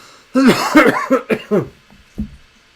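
A burst of several harsh, close coughs in quick succession, followed by a fainter cough or two after a short pause.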